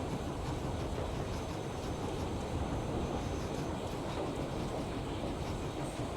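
A train rolling steadily in the video game Metro Exodus, a loud continuous rumble and rattle of rail cars that fills the whole stretch without a break.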